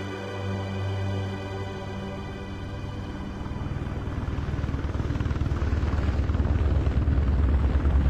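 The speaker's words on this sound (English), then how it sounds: "Get in the helicopter quickly." A helicopter's rotor chop in the video game Mr. Meat 2 builds steadily, growing louder and more insistent as the engine roar swells, close by with no talk.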